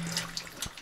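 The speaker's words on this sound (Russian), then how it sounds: "Я открыл кран и качаю." Water running from an opened tap fed by a hand pump at a country house; a short, faint gurgling spurt with splashy bursts.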